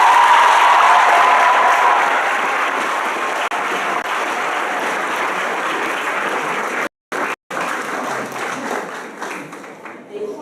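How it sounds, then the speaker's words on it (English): A steady wash of applause from an audience at an awards ceremony honoring graduates, loud at first and easing slightly, with two brief dropouts near the end and some faint voices beneath. "Please give them a round of applause."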